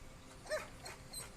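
Desi street dog barking and whimpering in a few short, faint yips spread across a quiet outdoor scene, with no talk over them.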